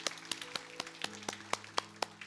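Faint, evenly spaced claps from a church congregation during a Sunday worship service in Seoul, about four sharp beats per second in a steady rhythm.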